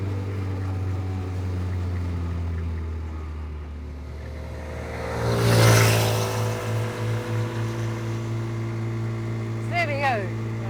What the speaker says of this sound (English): Wheels spin off the gravel.